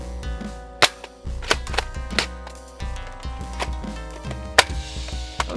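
An Adventure Force Pyroraptor toy blaster fires several sharp, snappy shots with clacking mechanical handling between them, then jams partway through. Each shot rings out loud and close over a steady electric whir.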